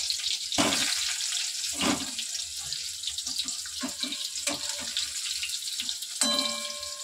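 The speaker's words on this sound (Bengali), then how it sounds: "আলুগুলো সুন্দর করে কিন্তু ভেজে নেব" Potatoes for biryani fry in oil with a hissing, bubbling sizzle that swells and fades in uneven bursts, with a few clinks, heard close up and without talking.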